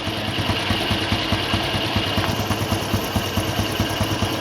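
A motorcycle engine idles at low RPM while its carburetor is being adjusted, a steady near putter with a regular pulsing beat and no talk over it.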